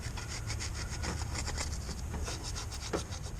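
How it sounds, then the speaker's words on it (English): A scouring pad scuffs the engine mating surface during a water pump replacement on a 2005 Honda Odyssey 3.5L. It makes fast, steady, rhythmic abrasive rubbing strokes, close and continuous. "I'm just going to take that scouring pad and scruff it up real good."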